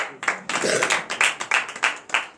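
Congregation at a Beninese morning prayer service clapping in acclamation of Jesus, loud rhythmic bursts of hand claps close by, with a voice briefly heard early on.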